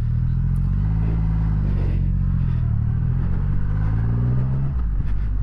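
Triumph Rocket 3 GT motorcycle engine at low speed while riding, a steady deep rumble with a few gentle swells in pitch, close and continuous with no talk.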